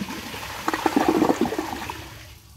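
A short Glacier Bay toilet flush with just water swells with rushing, gurgling water, then drains away and fades to quiet.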